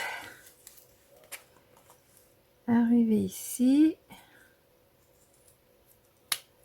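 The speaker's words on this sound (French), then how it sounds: "Puis arrivé ici, mes petits ciseaux." Small scissors snip twice in quick succession while eggs are decorated, the crisp cuts close and loud between quiet stretches, with a soft spoken voice before them.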